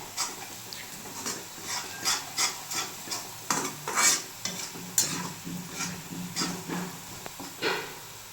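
Chilli masala being stirred and scraped around a hot pan for egg bhurji, a rhythmic series of rasping strokes over a soft sizzle, close and moderately quiet, with no talk.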